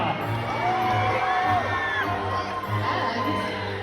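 Crowd of children and adults cheering and shouting in welcome for visiting Pender County homeschoolers at a medieval-themed dinner show, a sustained loud roar with whoops rising and falling throughout.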